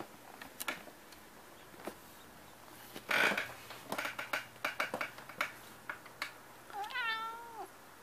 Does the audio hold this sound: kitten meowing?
yes